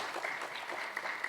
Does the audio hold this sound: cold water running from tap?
no